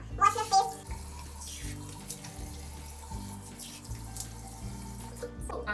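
Running tap water splashes steadily into a sink while a face is washed, broken by irregular splashy bursts near at hand, with soft background sounds underneath.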